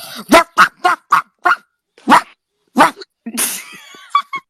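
A person imitates a dog, giving a run of short, loud, evenly spaced barks close up, followed by a longer breathy sneeze-like yelp and two more quick yips.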